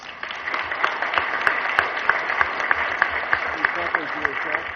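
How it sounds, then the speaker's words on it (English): An audience at a corporate annual stockholders meeting applauds newly elected directors, producing a steady, even round of clapping from a large hall crowd that carries on throughout. "Let us welcome the elected directors with a warm round of applause."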